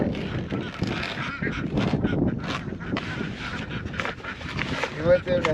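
Laying ducks in a mobile duck house give honking, goose-like calls throughout, close and fairly steady, mixed with a voice speaking over the flock and some wind or background noise.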